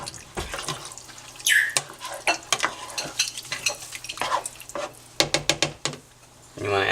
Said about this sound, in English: you want to add all your tomatoes in. Give it a good mix